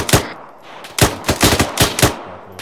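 Gunfire in the military shooter ArmA 3, a loud series of sharp shots and short bursts with uneven gaps between them, each crack trailing off into echo.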